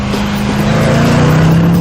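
A 4-litre Rover V8 car engine, a deep, loud, steady hum under way, heard alone without any voices.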